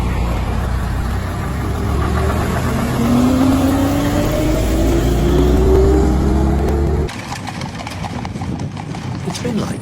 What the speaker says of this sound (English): Here's a bus coming now.